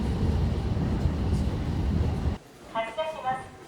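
A train rumbles steadily, then the noise drops abruptly as it comes to a stop at a station in Karuizawa, Japan, followed by a voice speaking briefly.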